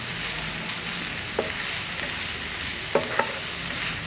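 Mixed vegetables sauté in a pan for a pav bhaji style pasta, giving a steady broadband sizzle with a few sharp clicks of a spoon stirring, close and fairly loud, with no voices.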